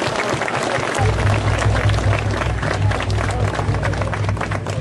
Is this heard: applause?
yes